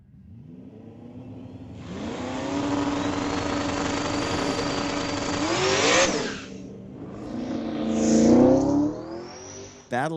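A Ford Mustang, a 2019 street-legal drag car, launches at a drag strip, its engine roaring up through a long rising pull, backing off, then surging again, loud and fairly near.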